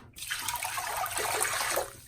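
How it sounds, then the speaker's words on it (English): Water poured from a bucket into a bathroom sink fitted with a new Glacier Bay three-piece faucet, a steady close splashing rush lasting about two seconds before tapering off. "I'm going to get a bucket with water and I'm going to pour it in there and see if it leaks."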